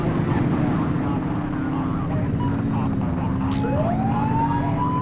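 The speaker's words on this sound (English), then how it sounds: "Get on their tail and flip the siren." A police car siren in the video game The Precinct winds up with a rising wail near the end, over a steady, dense engine and traffic rumble.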